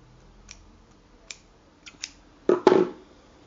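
Small scissors snip the tail end of beading thread on a rivoli and superduo ring, a few faint close clicks followed by two sharper, louder cuts near the end, no voices.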